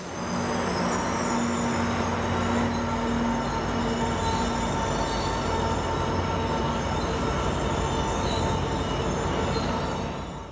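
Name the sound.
train wheels squealing on the rails, Amtrak Surfliner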